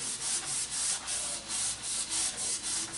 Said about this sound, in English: obviously you want to sand a lot more than this